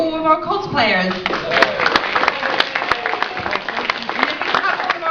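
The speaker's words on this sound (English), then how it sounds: "Let's have another massive round of applause for all of our cosplayers." An audience at the Weston Super Sonic 2017 convention claps and cheers for cosplayers, a dense burst of applause that rises after a moment of talk and keeps going at full strength.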